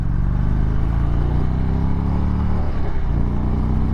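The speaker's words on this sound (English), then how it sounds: "Oh wow, I love that sound, man. I love that sound. Oh wow, that's a beautiful V-twin" A 2024 Indian Springfield V-twin motorcycle pulls hard on a highway, its loud, close engine rumble climbing steadily in pitch through the gears with no speech over it.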